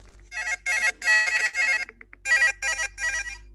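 Mobile phone ringing with an incoming call, a clear electronic ringtone in repeated short bursts with brief gaps, fairly close and alone.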